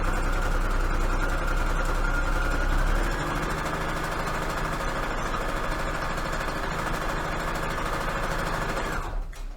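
A sewing machine runs steadily for several seconds, stitching pink Christmas fabric onto a shabby chic junk journal cover. Its loud, continuous mechanical whir stays close and even before stopping abruptly at the end.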